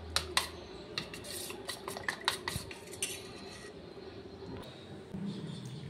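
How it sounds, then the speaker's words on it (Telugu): Ragi flour mixture stirred smooth to break up lumps, with clinking scrapes of a spoon against a metal vessel, quick sharp taps at first, then softer steady stirring, close and moderately loud. "చూడండి, ఇలా ఉండలు లేకుండా మొత్తం మిక్స్ చేసుకోవాలి"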